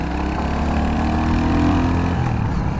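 A Royal Enfield Hunter 350 motorcycle accelerates in second gear, its engine giving a loud, steady drone that rises gradually in pitch, heard up close from the rider's position.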